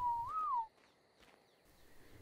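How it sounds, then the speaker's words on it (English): A single rising-then-falling whistle tone, used as a stop command for a tamed dinosaur in Ark Survival Evolved, sounds clearly for about half a second and then leaves faint game ambience behind. "Whistle it to stop."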